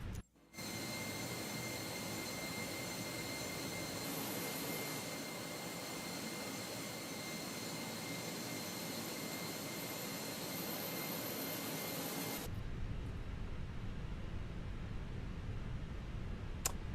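A Fenix A321 airliner with engines running during pushback in a flight simulator gives a steady, loud jet whine and roar that holds evenly throughout, with a change in tone late on and no talk over it.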